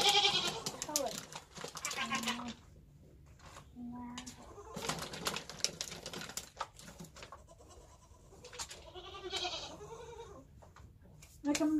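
Goats bleat repeatedly at close range, wavering calls spaced across the stretch with pauses between, while a person talks at times in between the animal cries.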